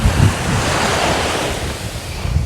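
Waves splashing onto Scotstown Beach near St Fergus and Peterhead, a loud continuous surf roar with heavy wind buffeting on the microphone and bursts of low-end splash at the start and end, no talk.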